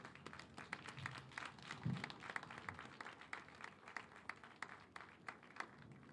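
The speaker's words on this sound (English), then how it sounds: "A round of applause again for Dr. Olufemi Okeosanyitolu." Applause from a conference audience, a steady wash of many hands clapping at a distance, fairly soft and continuing throughout without any voices.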